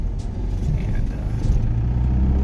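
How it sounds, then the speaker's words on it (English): A Nissan S13 rolling along on a test drive after a big brake upgrade, its low engine and road rumble droning steadily and close throughout. "we're gonna go for a little test drive here"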